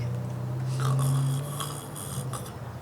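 A voice imitates Daddy Pig snoring while reading a Peppa Pig book aloud, with a low, drawn-out rasping breath, followed by fainter snorting sounds, close and fairly quiet.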